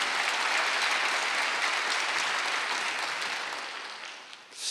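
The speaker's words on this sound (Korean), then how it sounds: "박수 한번 주세요" Church congregation at a Wednesday worship service breaks into applause, a dense, even clatter of many hands that slowly thins and fades near the end.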